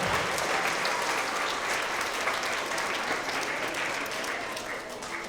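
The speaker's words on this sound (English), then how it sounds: "let's have another round of applause for all of our third grade Tigers of the Quarter" An audience claps at a school award assembly for third graders, steady dense applause from a large crowd that holds throughout and tapers slightly at the end.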